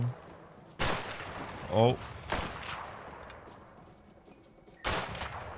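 Bursts of gunfire in the video game A Way Out, three sharp loud volleys spaced a couple of seconds apart, with a brief exclamation from a player in between.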